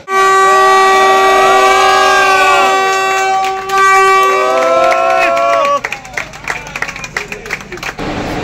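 A Kolkata Metro Green Line train at its Sealdah–Esplanade inauguration sounds long sustained horn-like tones over a loud crowd, then fades into scattered clattering and knocks.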